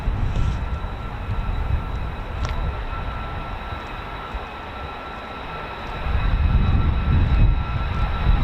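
Norwegian Air Force F-35A jet aircraft rumbling at a distance near RAF Lakenheath, a broad low roar that swells louder toward the end, with no one speaking.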